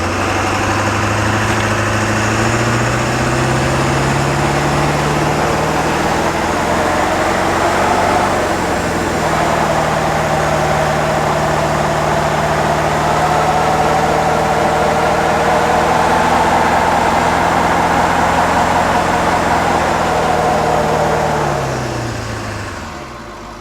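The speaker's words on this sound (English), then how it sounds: "Well, that was a burnout. Freaking roasted these tires pretty good." Heavy 7.3 diesel 4x4 van with a front-end conversion doing a tire burnout, its loud engine droning and rising steadily for over twenty seconds before easing off.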